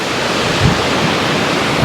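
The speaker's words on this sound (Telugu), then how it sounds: "బ్రహ్మాండంగా వస్తున్నాయి నీళ్ళు మొత్తం." Ocean waves crash on the beach at Hoi An, a loud, continuous surf roar with slight swells and some wind buffeting.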